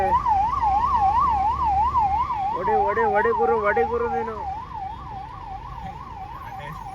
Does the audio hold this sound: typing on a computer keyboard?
no